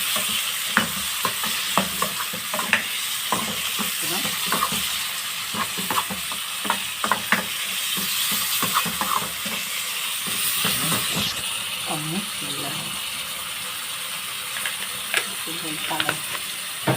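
Tomato and chili pepper sizzling on frying onions in a pan, a constant hiss punctuated by frequent clicking and scraping stir strokes, close and loud throughout with no talking.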